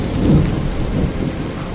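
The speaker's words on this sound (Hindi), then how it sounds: "उस रात तूफान जोर से चिल्ला रहा था" Heavy rain pours with a deep rolling rumble of thunder in a cartoon story's stormy night, a dense continuous wash of rain with a low booming swell near the start, with no voices.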